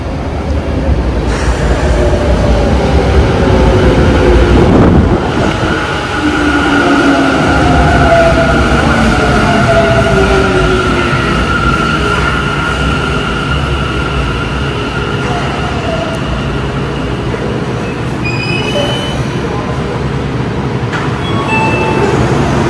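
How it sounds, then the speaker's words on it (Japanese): A Tokyo Metro local subway train bound for Hanno pulls into a station platform, a loud steady rumble of wheels and motors with rising and falling whine tones and brief squeals throughout. "The local train bound for Hanno is arriving at track 2."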